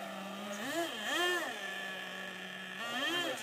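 Traxxas vintage nitro RC boat engine idling steadily with a buzzy, harmonic drone that rises and falls in pitch in short swells, nearby and fairly loud.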